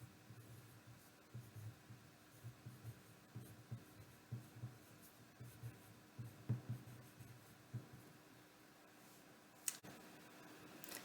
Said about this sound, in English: I'm going to write mine, you write yours